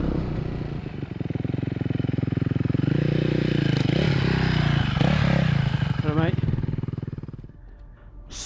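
A 450 dirt bike ridden hard on a rough motocross track, its engine a loud, close, buzzing drone that rises and falls with throttle changes, then fades slightly toward the end.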